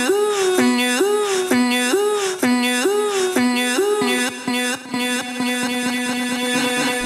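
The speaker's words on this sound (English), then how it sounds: "We'll also add this delay automation for the vocals" Chopped vocal melody in an FL Studio dance track with automated delay, the bright gliding notes repeating and echoing, with the trailing echoes thinning out toward the end.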